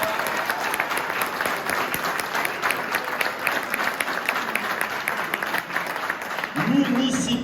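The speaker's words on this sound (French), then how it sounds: "Eh oui, il faut l'applaudir" An audience applauds a deputy at a 2021 election results gathering in Aulnay-sous-Bois, steady clapping under someone talking over it.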